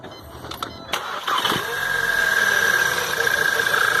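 A Volkswagen Jetta TSI 2.0 engine cranks with a few clicks and catches, then settles into a steady, fairly loud idle with a high whine on top.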